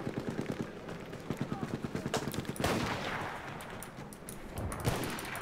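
Rapid bursts of automatic gunfire from the Battlefield video game rattle in quick regular volleys, then give way to denser explosive blasts and scattered shots, with a voice talking faintly underneath.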